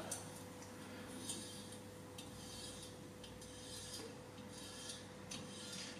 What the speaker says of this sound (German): Ein bisschen Öl dran und dann kann man schon das Gewinde schneiden.